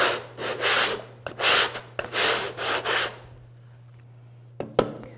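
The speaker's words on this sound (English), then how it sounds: "roughing it up with a little bit of coarse sandpaper will help the plaster adhere better" Coarse sandpaper roughing up a surface before plaster is applied, with several close, loud rasping strokes in an irregular rhythm, then a pause and a couple of sharp knocks near the end.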